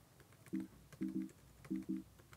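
Sparse computer keyboard keystrokes sound in quick pairs against a quiet room, as a few soft clicks are typed in small bursts.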